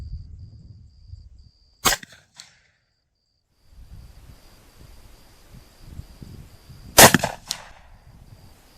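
Two sharp gunshots from a .45 Colt firing Barnes Vor-Tx bullets at a 100-yard range, about five seconds apart, each loud and abrupt with a short echoing tail over quiet outdoor background.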